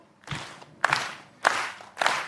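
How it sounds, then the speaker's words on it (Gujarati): Audience claps a beat for a Gujarati rap song, four loud, evenly spaced claps about half a second apart, with no talking between them. "તાળીઓ સાથે એક બીટ આપીશું."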